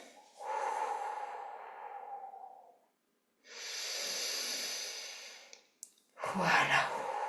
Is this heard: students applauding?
no